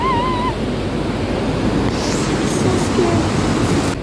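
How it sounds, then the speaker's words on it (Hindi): Fast-flowing river water rushing under a bridge, a loud, continuous roar with wind buffeting the microphone and a brief faint voice over the torrent. "उफ, पानी का फ्लो बहुत तेज।"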